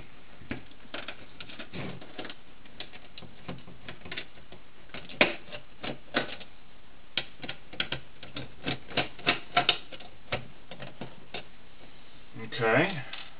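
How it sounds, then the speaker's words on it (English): Faint clicks and small metallic ticks come from screws being removed from an Xbox 360 outer shell casing, scattered and close, under someone talking. "All we got to do is just take out these four screws."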